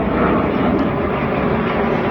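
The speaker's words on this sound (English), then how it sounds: "There's 2 more F-15s over there." F-15 Eagle fighter jets fly over an RAF Lakenheath airfield with a loud, continuous broadband engine roar that stays steady and close throughout, with no talk.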